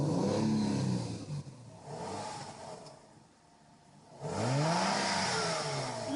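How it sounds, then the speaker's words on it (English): 2014 Honda Crosstour engine revved in a few throttle blips, rising and falling mid-pitched roars close by with a quieter idle dip between. "now we'll give her some gas and see how she sounds"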